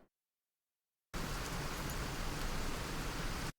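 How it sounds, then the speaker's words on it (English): Steady synthetic rain loop for a video game in development, a dense, even wash of falling rain that starts abruptly after a moment of silence and cuts off cleanly, heard alone. "already have rain sound"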